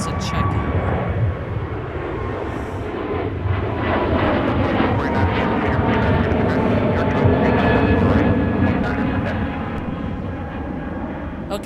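A heavy airliner being pushed back toward another gate at Minneapolis–Saint Paul airport, its engines and ground equipment giving a steady, broad rumble that holds at a constant loud level throughout, with faint tonal whines above.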